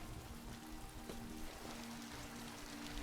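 Rain falling in a scene of the animated series Arcane, a faint, steady patter and hiss under a low background hum.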